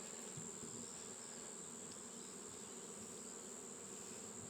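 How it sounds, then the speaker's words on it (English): A massive swarm of bees buzzing in a dense, continuous hum that stays fairly faint and even throughout, with a steady high whine above it and no voices. "Oh my God, there's just so many bees."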